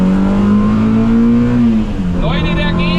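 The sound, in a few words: Simca Rallye 2 rally car accelerating in second gear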